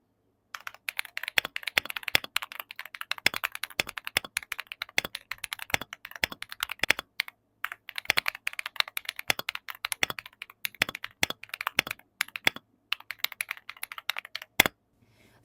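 Typing on a laptop keyboard, picked up by a Boya wireless microphone: quick bursts of light plastic key clicks with a few short pauses and a louder spacebar thump near the end, heard close with no voices.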